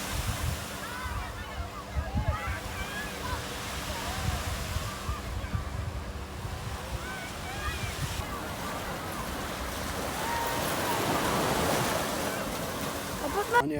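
Sea waves wash steadily onto a crowded Gaza beach in hot weather, a continuous broadband surf roar with some wind buffeting, growing louder toward the end, under the murmur of a speaker talking throughout.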